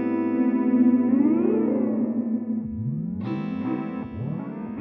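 An electric guitar runs through a distortion effect pedal, sustained overdriven chords with bending, swooping pitches and warbling modulation, then sharp new attacks near the end, heard alone and fairly close.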